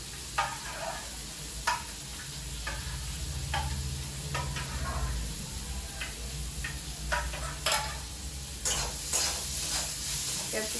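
A steady sizzle of frying in a pan, with a spoon scraping and tapping the pan in irregular strokes throughout.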